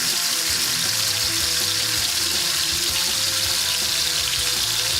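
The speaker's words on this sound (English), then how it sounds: "see how that's sizzling away nicely, nice high heat" Loud, dense sizzling and crackling of beef for steak fajitas frying in a very hot pan over high heat, continuous and close throughout.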